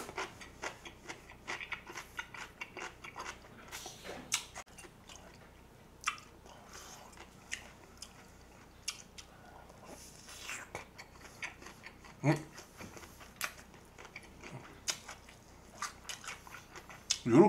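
Beef and Spam kimbap being chewed up close, soft irregular bites and squishy mastication in a quiet room, with occasional brief talk between mouthfuls.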